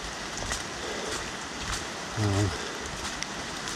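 Steady rain pattering down during a cold night hike on a flooded trail, a continuous broadband hiss with faint drop ticks throughout and a brief low murmur partway through.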